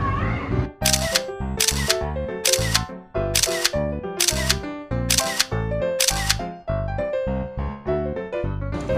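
Photo booth camera taking sticker photos in Chiang Mai, Thailand: bright electronic chimes and a musical jingle with several sharp shutter-like bursts at regular intervals, fairly loud and close, with no talking.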